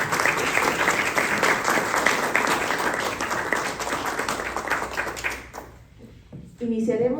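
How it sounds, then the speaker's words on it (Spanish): An audience at an evening book presentation on electoral reform applauds loudly and continuously for several seconds, then the clapping fades out into a quieter room. "los recibimos con fuertes aplausos"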